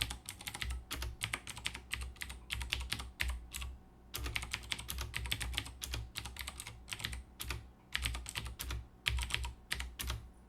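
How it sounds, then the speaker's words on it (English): Loud, crisp clicking of rapid typing on a Cooler Master CM Storm QuickFire TK mechanical keyboard with Cherry MX Blue switches, dense bursts of keystrokes with brief pauses, close and alone without voices. "The blue switches provide a tactile feedback, and they're also loud and clicky"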